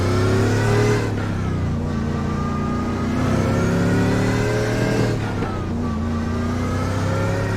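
Race cars in the iRacing sim at Canadian Tire Motorsport Park drone past with layered engine tones that rise and fall steadily and stay loud and close throughout, with no talk.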